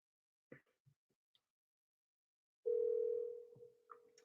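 A telephone dial tone sounds during a cold call, a steady flat tone that sets in abruptly after a few faint clicks and then fades somewhat.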